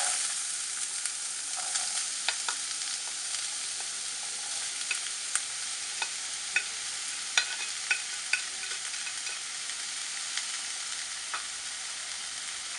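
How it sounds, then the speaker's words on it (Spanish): Vegetables sizzle and crackle steadily in hot oil in a frying pan, with a dense continuous hiss broken by occasional sharp pops and stirring clicks, close and alone. "Tenemos ya una sartén con aceite caliente y lo que vamos a hacer ahora es saltear las verduras."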